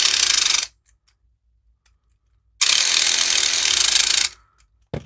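A homemade electric pick gun buzzes loudly against a lock in two bursts, a short one and then a longer one, separated by a silent gap, followed by faint clicks.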